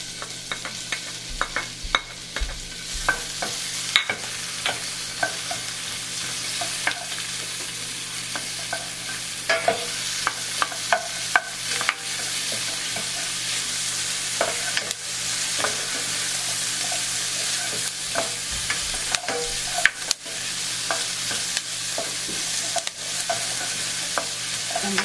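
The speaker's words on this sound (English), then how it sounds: "we're just going to put the onions and the garlic in here" Onions and garlic frying in olive oil for a lemon pasta, a dense, steady sizzle with repeated spatula scrapes and taps against the pan, close and loud throughout.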